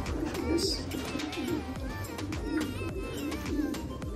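Racing pigeons coo in a loft, with several soft, repeated low coos overlapping steadily over a busy background of other birds chirping, close and moderately loud throughout.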